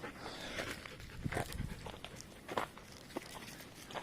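A Belgian Malinois moves about close by, with paw scuffs, footsteps and bursts of panting at irregular intervals, fairly quiet with little else around.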